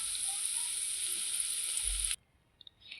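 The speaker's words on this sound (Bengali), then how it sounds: "এখানে আমার পেঁয়াজিটা ভাজা হচ্ছে।" Onion pakoras (piyaji) made with gram flour batter sizzle steadily in hot oil, a loud continuous hiss for about two seconds that then cuts off abruptly, leaving near silence with a few faint clicks.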